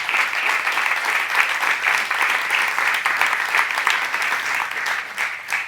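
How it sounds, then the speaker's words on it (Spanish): An audience applauds steadily for a film director being introduced at an event for a project against racial discrimination, with dense, sustained clapping throughout and no speech over it. "por dar un aplauso, por favor, para él"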